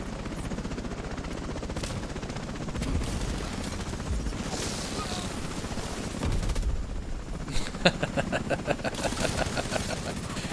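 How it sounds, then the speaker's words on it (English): A helicopter's steady rotor drone runs throughout in The Division 2, mixed with bursts of gunfire and rapid automatic fire, loudest and densest toward the end, with no talk. "Alright, where's the other chopper?"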